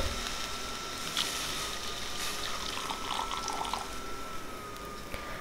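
Milk is poured into a pan of roasted poha (flattened rice) while making kheer, a steady close liquid pouring and sizzling wash that carries on throughout with no talk.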